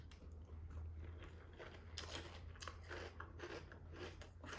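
Someone chews crunchy salted caramel Magic Spoon cereal with milk, a close, steady run of crisp bites and crunches that continues without speech.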